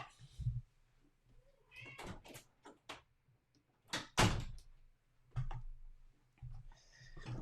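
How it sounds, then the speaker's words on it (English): An indoor house cat meows several times, faint and close, with knocks and bumps mixed in among the calls, in an otherwise quiet room. "cat was being a pain"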